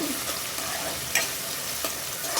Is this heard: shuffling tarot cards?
no